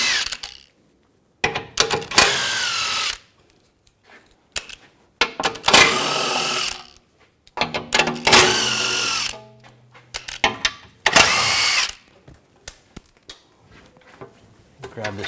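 Power tool whirring in repeated bursts while backing out bolts with a 16 mm socket on a 2009–2010 BMW 535i xDrive front shield, with short metallic clinks between the close, loud runs.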